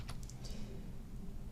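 Faint keystrokes on a computer keyboard while pressing a shortcut in CAD software, a few light clicks near the start over a low, steady room hum, with no talking.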